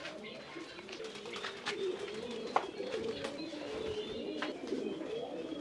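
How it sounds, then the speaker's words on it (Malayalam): Pigeons coo softly and continuously in the pigeon section of a large mixed farm in Kerala, with occasional faint chirps and light background noise. "ഇതാണ് നമ്മുടെ പ്രാവുള്ള ഒരു സെക്ഷൻ."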